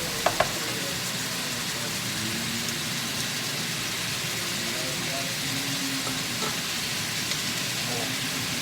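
Onions and bacon-wrapped scallops fry in butter with a soft, constant sizzle and faint crackles and pops, staying gentle and even throughout.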